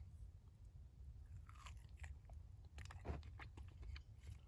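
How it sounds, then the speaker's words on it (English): Close crunching bites and chewing on a camp-cooked January steak, eaten at a winter campsite, with irregular wet mouth sounds over a low steady background rumble. "Now that is a January camp steak. Let's eat."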